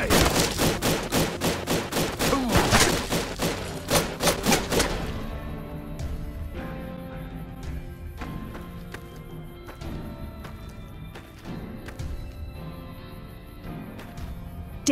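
Gunfire in Fallout New Vegas: a rapid burst of loud, close shots fills the opening seconds, then sparser single shots and impacts follow over a busy background.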